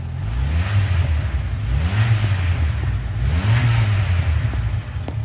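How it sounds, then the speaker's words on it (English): A 1994 Jeep Wrangler S with a rusted-out body idles loudly up close, its engine note swelling in a couple of short revs before settling back to a steady rumble, with no talking. "Let's go ahead and listen to the engine."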